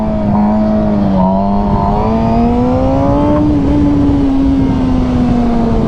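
Motorcycle engine held at a steady, loud drone during a clutch-up wheelie, the pitch wavering slightly and rising a little before settling, close and continuous with no talk.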